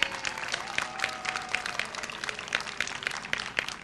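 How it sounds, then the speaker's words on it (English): Audience clapping for two middle school principals standing up at a school event, a moderate, steady patter of hands that carries evenly through the clip. "Can we give them a round of applause?"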